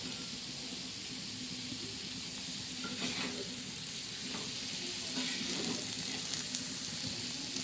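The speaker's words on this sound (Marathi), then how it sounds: "आता मुळं आपण मस्त हलवून घेणार आहोत" Sliced radish rounds fry on a flat griddle with coriander leaves while being stirred, making a constant loud sizzle and hiss with occasional soft scrapes and clinks of a utensil.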